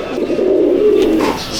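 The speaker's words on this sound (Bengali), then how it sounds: "আর এই পায়রা" Pigeons in a rooftop loft in Metiabruz, Kolkata coo loudly and close by in one continuous throaty, rolling call, with no talking.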